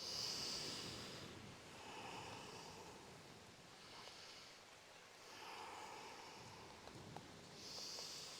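Slow, deep breathing held in a yoga forward fold: faint, airy swells of inhale and exhale repeating roughly every couple of seconds, soft and close, with no talking.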